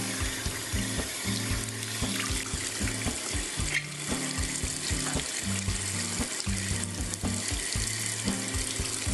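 Tap water streams steadily into a sink for several seconds, a constant close hiss and splash with a low repeating musical tone underneath and no voices.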